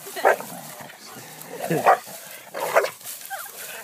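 A dog whimpers in a few short, high, whiny bursts spread over several seconds, close by, while people talk over and between them.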